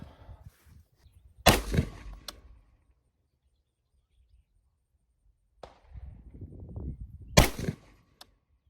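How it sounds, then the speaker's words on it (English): Sharp, loud rifle shots from a Palmetto State Armory AR-15 fired outdoors: a heavy crack, a softer report several seconds later, then another loud crack, each followed by a brief rumbling tail, with quiet gaps between them. "Let's put 3 more rounds through the Palmetto."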